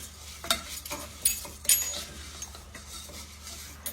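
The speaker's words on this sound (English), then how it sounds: "we're gonna cook it about 10 minutes until our rice becomes brown" Rice browning in a pan for Mexican rice gives a soft, steady sizzle, broken by a few sharp clinks of a utensil against the pan. No voices are heard.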